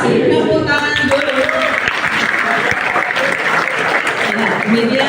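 Steady applause from a crowd fills the whole stretch, with a voice speaking briefly over the clapping at the start.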